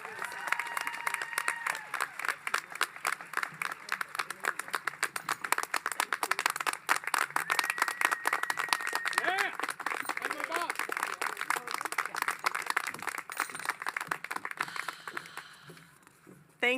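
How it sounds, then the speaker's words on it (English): A commencement crowd claps and cheers for a speaker in a long burst of close, crisp applause, with scattered whoops and voices rising over it before it tapers near the end. "Ladies and gentlemen, please give Dr. Lori Bennett a round of applause."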